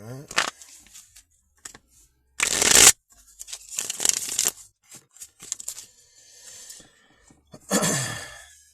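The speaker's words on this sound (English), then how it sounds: "Spirit says shuffle the cards some more" Playing cards shuffled during a spiritual card reading, with several separate riffling bursts spread across the span and soft speech and breaths heard between them.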